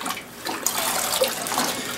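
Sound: rinsing bloody deer hide in a water bucket

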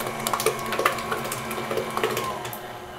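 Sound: electric mixer mixing pecan pie filling with corn syrup

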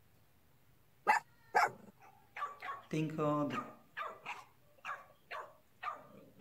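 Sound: dog barking

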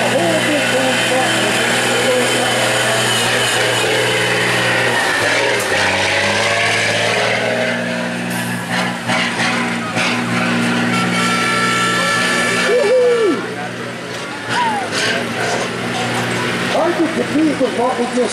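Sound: supermod semi tractor engines at truck pull

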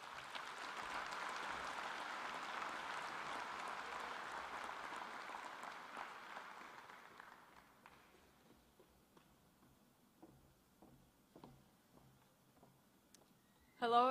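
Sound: audience applause welcoming a graduation speaker

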